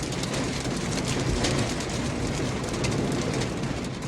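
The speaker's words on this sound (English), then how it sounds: "Oh, this has got hail too." Heavy rain mixed with hail pelting a truck body in strong wind, a dense, steady roar of impacts filling the whole clip with no pause and no voices.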